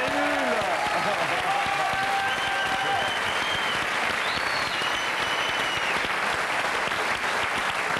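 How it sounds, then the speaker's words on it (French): Dense, sustained studio audience applause for a French television comedy troupe, loud and continuous throughout with a faint hint of crowd noise mixed in. "On peut applaudir les nuls."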